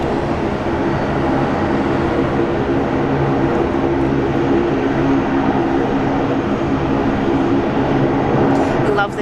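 A Qantas Boeing 787 Dreamliner at Sydney International Airport, a loud, steady engine drone with tonal hum that holds throughout, with talk over it.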